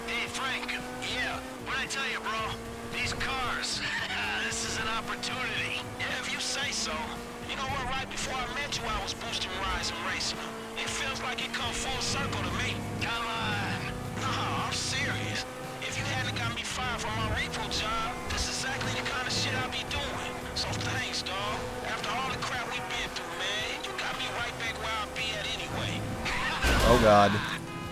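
Racing car engine in Grand Theft Auto 5 revs and shifts continuously with bursts of tire skidding, loud and steady throughout, with game effects and a brief louder crash near the end.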